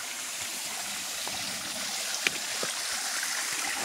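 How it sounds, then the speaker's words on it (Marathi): Water running down through a pipe in a village, a steady close trickling rush with a few small splashes and clicks, heard alone without talking. "त्या पाईपाने खाली पाणी जातो"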